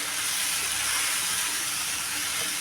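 Ground peanut and garlic paste fries in a pan for a quick onion-tomato chutney, giving a steady, loud, unbroken hiss and sizzle with no pauses and no voices.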